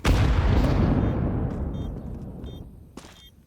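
Heavy blasts from HE grenades in Counter-Strike on the Inferno map, a big booming burst at the start that rolls and decays over a few seconds, with fainter thuds and pops trailing after, no voices.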